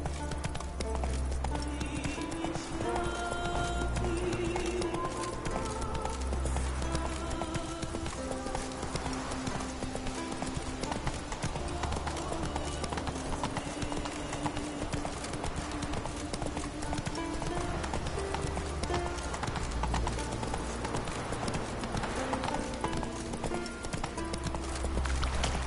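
A horse gallops in The Witcher 3 with a loud, continuous drumming clip-clop that holds steady for the whole stretch over a low rumbling game soundscape.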